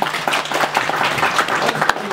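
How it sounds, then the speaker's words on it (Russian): A room of seminar participants bursts into applause, a dense patter of many hands clapping at a steady moderate level for a couple of seconds, with faint voices mixed in. "Давайте аплодируем."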